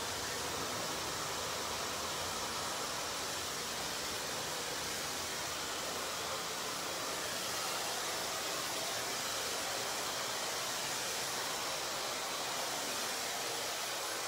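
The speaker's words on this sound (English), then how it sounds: "I'm going to put the diffuser on for about 30 more seconds" A hair dryer with a diffuser attached blows steadily on curly hair cut into a layered bob, a loud constant airy roar running unbroken throughout.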